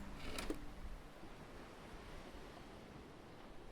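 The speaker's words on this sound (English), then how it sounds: "Can't find out where the waves are coming from." Ocean waves on a rocky formation in StarCraft Remastered give a soft, steady surf wash, fairly faint and unbroken, with a brief brighter splash near the start.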